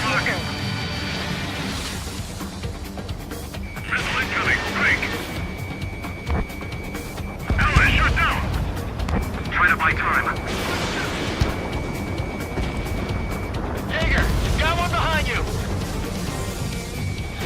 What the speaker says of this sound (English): Strider 1, missile away.